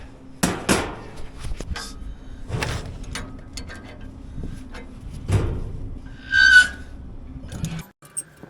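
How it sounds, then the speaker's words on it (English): A crescent wrench works a turnbuckle tight, giving a series of close metallic clinks, taps and clunks at an uneven pace, with one brief ringing scrape near the end and no speech. "use this crescent wrench to tighten this turnbuckle"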